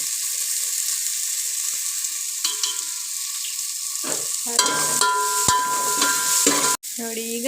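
Tomatoes sizzle in a hot pan for mutton sambar, a steady close crackle of frying with a few stirring scrapes and clinks of a utensil against the pan partway through, with no talk.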